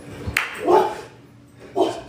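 Household dogs, including a pit bull lab mix, give a couple of short, close barks and yips indoors, with faint background noise between them.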